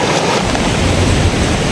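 A strong river current rushes near a waterfall in Aguilar, Pangasinan, making a loud, steady, close roar of churning water mixed with buffeting wind on the microphone, with no speech.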